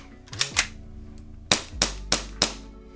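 An airsoft Hi-Capa pistol fed by a Tokyo Marui magazine cycles its slide, giving six sharp, snappy metallic clacks in two groups, close and loud, with no voices.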